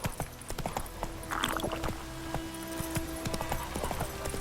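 Horse hooves clip-clop steadily in The Witcher 3 Wild Hunt Remastered on PS5, a near, regular trotting rhythm over soft game ambience, with a brief neigh-like sound partway through and no speech.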